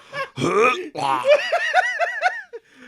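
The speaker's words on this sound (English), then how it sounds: "you want to watch me burp? Here it comes." A voice lets out a long, drawn-out burp, followed by a short run of laughter.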